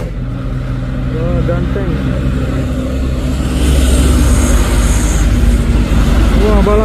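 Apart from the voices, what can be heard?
Hino and Isuzu trailer trucks climbing a hill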